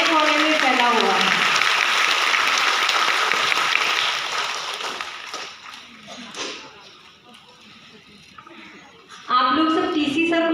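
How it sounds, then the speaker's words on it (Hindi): Applause from an audience at a women's empowerment celebration, loud and dense at first with a voice over it, then dying away to quieter scattered sounds before speech resumes. "बहुत जोरदार तालियां हमारे इस आर्टियन परिवार के लिए"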